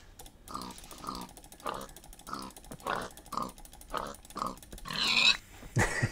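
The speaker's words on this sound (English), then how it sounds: "I'm about to kill a pig with a pork chop." Repeated short grunting oinks from a pig in the Minecraft video game, about eight rhythmic bursts at a steady pace, fairly loud and close, with no talking over them.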